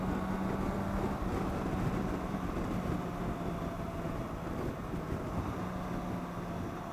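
A BMW K1600B touring motorcycle under way, its steady engine drone and heavy wind rush holding constant and close throughout, with no talking.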